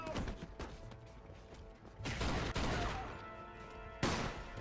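Bursts of gunfire crack and boom in a Mafia 2 shootout, loud repeated shots and crashes layered with tense shouted voices and game sound effects.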